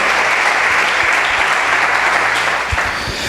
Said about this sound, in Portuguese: As palmas para ele nesta manhã.